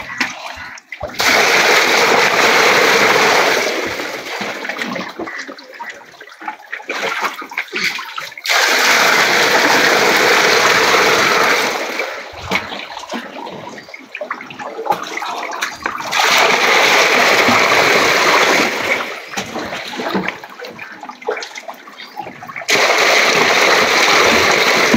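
Water pours from a bucket into a molly fish tank in several loud, splashing gushes of a few seconds each, separated by quieter pauses.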